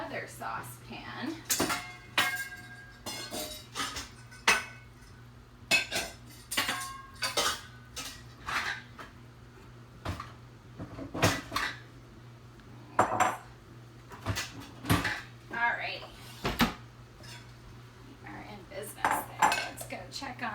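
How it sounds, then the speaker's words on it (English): A saucepan is lifted out and handled in a home kitchen while salted caramel fudge is made, with repeated close metallic clanks and clinks of pans and utensils across the stretch, over a steady low hum. "And then my other saucepan."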